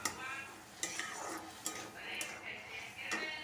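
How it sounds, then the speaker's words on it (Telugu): Potatoes and masala paste frying in a pan, a moderate sizzle broken by several crisp scraping stirs at a steady pace, close by. "ఇప్పుడు ఇదంతా ఇందులో వేసేద్దాం. వేసేసి ఇది బాగా వేగనిద్దాం."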